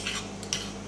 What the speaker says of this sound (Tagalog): At hahaluin natin ito ng maayos para sumipsip ang lasa ng bawang at paminta.